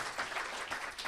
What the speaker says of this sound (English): Can we please give our panelists a big round of applause?